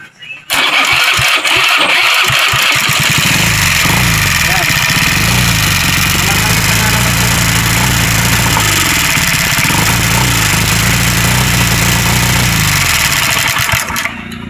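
A Honda Beat scooter with an oil passage fault cranks and fires, then settles into a loud, close, steady idle with a faint knocking undertone that keeps running to the end.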